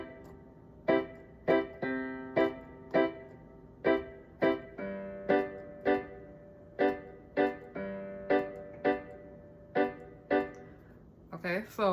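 Piano triad chords struck in a syncopated Kompa rhythm, about twenty crisp, evenly spaced hits over a steady pulse, played alone and close, with a brief flurry at the end.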